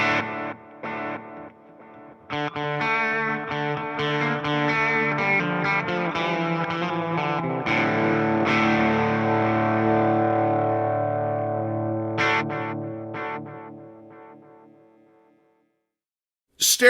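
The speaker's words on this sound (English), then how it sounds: "Stereo space delay." A Fender Tone Master Pro running its stereo space delay, modelled on the Roland RE201 Space Echo, plays a guitar phrase with distorted, chorused tones whose repeats build and then trail away into silence before a final sharp note.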